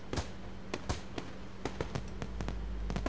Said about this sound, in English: a burst of red and yellow flame lights the sky high above the school with another loud boom